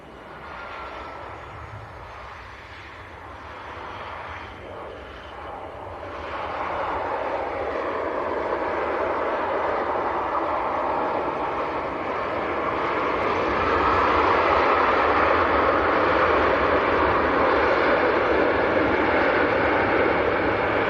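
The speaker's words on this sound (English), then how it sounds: "And it will be Jet 2 from Tenerife South, a 737-800." A Jet2 Boeing 737-800 arriving at Leeds Bradford Airport, its jet engine roar swelling steadily from a moderate rumble to a loud, sustained broadband whine as it draws nearer.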